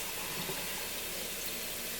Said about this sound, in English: I am going to fill it with hot water up until about 14 ounces